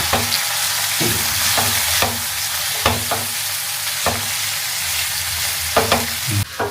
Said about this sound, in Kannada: ಒಂದು ಟೀ ಸ್ಪೂನಷ್ಟು ಕಾಳುಮೆಣಸು ಒಂದು ಅರ್ಧ ಸ್ಪೂನಷ್ಟು ಜೀರಿಗೆ ಇವಿಷ್ಟನ್ನು ಕೂಡ ಚೆನ್ನಾಗಿ ಎಣ್ಣೆಯಲ್ಲಿ ಫ್ರೈ ಮಾಡ್ಕೋಣ